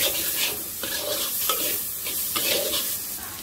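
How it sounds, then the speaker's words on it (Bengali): Spiced steel cut oats khichuri is stirred in a pan, with rhythmic scraping strokes roughly every half second over a constant sizzle, close and fairly loud. "মাঝে মাঝে নাড়তে হবে।"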